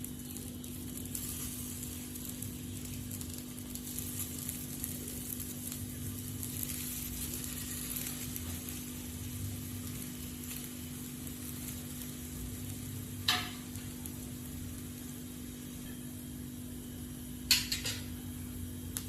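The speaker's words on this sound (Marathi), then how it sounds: "आता हे आपल्याला तव्यावरती शॅलो फ्राय करून घ्यायचे." Grated potato rösti shallow frying in oil on a hot griddle, giving a low continuous sizzle close by with a couple of brief utensil clinks, and no voices.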